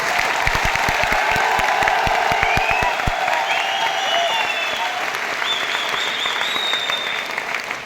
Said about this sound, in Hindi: एक बार मां शब्द के लिए जोरदार वाली तालियां बजाएं